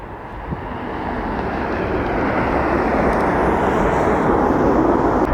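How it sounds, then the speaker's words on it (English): A United Airlines Boeing 737 jet airliner passing overhead, a broad roaring rush that swells steadily louder across the whole stretch, with wind buffeting the microphone. "United Airlines Flight 486, 737 heading to Denver."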